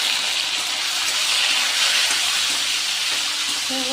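Moringa drumsticks tossed into hot oil with garlic give a steady, loud broadband sizzle that holds evenly throughout, close and continuous with no talk over it.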